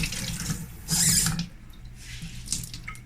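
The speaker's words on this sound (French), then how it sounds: "Je vais me rincer les mains" Hands are rinsed under a running tap at a sink: water flows and splashes steadily, with a louder gush as the hands move into the stream before it settles to a softer, uneven patter.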